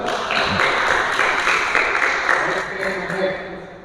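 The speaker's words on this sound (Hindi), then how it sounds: "सर, जोरदार ताली।" An audience at a Swami Vivekananda merit competition event in Talegaon, Pune, breaks into loud, sustained clapping close by, a dense patter of many hands that fades slightly toward the end, with a voice briefly audible over it.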